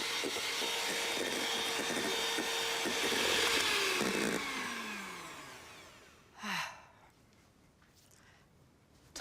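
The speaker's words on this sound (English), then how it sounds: "by whisking the egg whites. I want them to get to firm peaks." Egg whites whisked toward firm peaks, a loud steady whirring that rises and shifts in pitch for several seconds, then fades with a brief clatter near the end.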